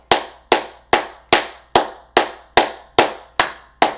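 Ten sharp, evenly spaced hand claps, close and loud, each snapping then decaying quickly, keeping a steady beat of roughly two and a half per second with a faint low hum beneath.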